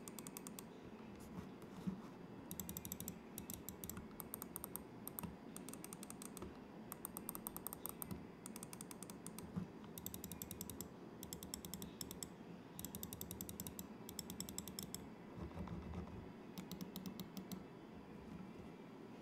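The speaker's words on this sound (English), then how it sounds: "the KO Blue micro switches for the left and right clicks have quite a heavy actuation force, at least more than I'm used to," Machenike Devilfish M830 mouse with blue micro switches clicked in rapid bursts, crisp, close clicking in repeated clusters separated by short pauses, quiet overall.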